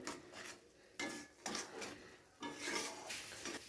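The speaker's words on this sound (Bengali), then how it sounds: "এবারে সমস্ত কিছুকে একসাথে খুব ভালো করে আবারও একবার কষিয়ে নিতে হবে।" Spice masala for a wedding-style rohu fish kalia being stir-fried and scraped in a pot, with repeated scraping and clattering strokes in bursts, close and moderately loud, with no talking.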